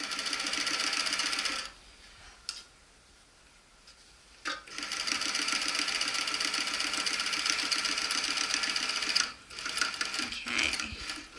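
A sewing machine runs in steady bursts while stitching fabric for an animal pouch, with a brief back-stitch pass; loud close mechanical whirring stops for about three seconds in the middle, then resumes and stops again.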